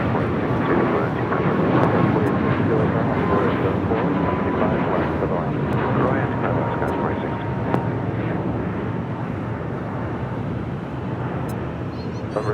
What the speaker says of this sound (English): That was the 737 MAX 8 heading to Mexico City.